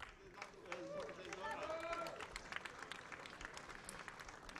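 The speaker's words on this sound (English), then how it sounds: "Big applause here in the podium" Crowd applause and cheering at the podium of a sidecar world championship sprint race, ragged clapping under an announcer's voice with crowd chatter around it.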